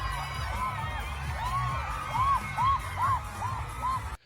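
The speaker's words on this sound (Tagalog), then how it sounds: "Naririnig niyo yung sigawan tsaka yung hiyawan doon sa loob ng studio." A studio audience at a noontime variety show shouts and cheers, rising whoops and yells swelling in several bursts over a steady crowd roar, heard from a distance.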